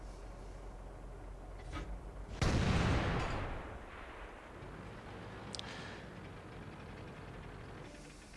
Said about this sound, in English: Five shots fired, 2 at the target, 1 of them bounced.